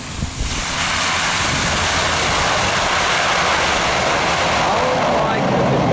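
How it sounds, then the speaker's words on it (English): A C-5M Galaxy taking off while an Airbus A330 goes around behind it, a loud continuous jet roar mixed with heavy wind rumble across several seconds. "This C5M Galaxy took off too slow, forcing the Airbus A330 behind it to go around."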